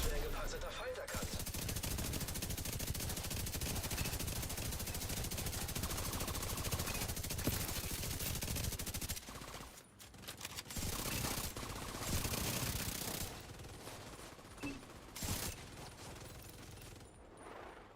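Near-continuous gunfire from The Division 2, with rapid automatic bursts and machine-gun chatter carrying for most of the stretch, broken by a few brief pauses and lighter shots near the end.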